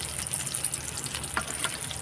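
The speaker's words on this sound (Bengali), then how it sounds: "মাছটা লাল লাল করে ভাজা হয়ে গেছে" Fish fries in hot oil for a home-style Bengali fish dish, giving a continuous close sizzle and crackle with small pops and no voices.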